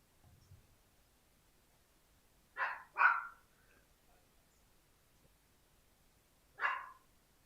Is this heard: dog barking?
yes